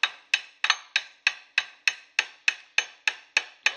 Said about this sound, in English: just at that critical stage we tap with a hammer